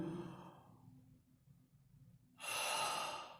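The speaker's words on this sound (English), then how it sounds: "Breathing is the inhalation and exhalation of gases like we normally do." A single breath is taken close up: a long audible exhale fades into quiet, then a sharp, loud inhale follows.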